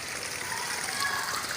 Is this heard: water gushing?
yes